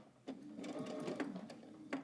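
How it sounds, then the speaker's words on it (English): A sewing machine stitches a band for a tiered dress, a quiet close whirring run with a few sharp ticks from the needle and mechanism. "now we're going to pivot again and keep sewing all the way up."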